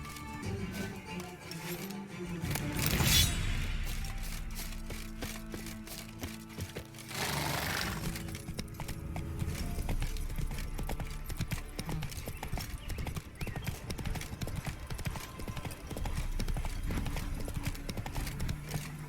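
Roach, the horse in The Witcher 3, clip-clops along in a steady rhythmic trot of hoofbeats, close and clear, with brief louder bursts of other game sounds early on and a faint whinny.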